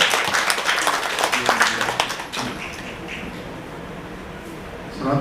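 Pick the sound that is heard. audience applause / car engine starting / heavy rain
audience applause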